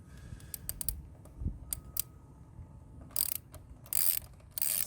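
A hose clamp being loosened under the hood of a 2018 Hyundai Sonata 2.4L, with a run of close, crisp ratcheting clicks and metallic ticks in short irregular bursts and no talking.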